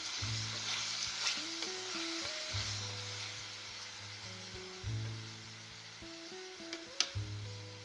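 Green garlic tomato chutney is stirred in a pan over a soft, low sizzle, with occasional light scrapes and clinks of the spoon. A faint steady hum runs underneath and the whole thing stays quiet.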